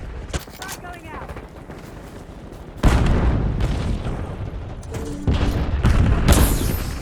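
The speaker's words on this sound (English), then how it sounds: "Frag going out." A frag grenade goes off in a Call of Duty match, a heavy boom with a long rumbling tail, followed by a second blast and scattered gunfire amid game chatter and noise.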